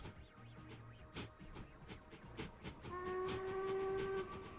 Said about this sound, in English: I want to ride this train to see the route and see all the bits of tracks.